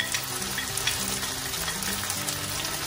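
Minced garlic sizzles in a frying pan over medium-low flame with cucumber, black fungus and chicken, a loud continuous crackle with stirring scrapes and a faint low hum beneath, and no speech.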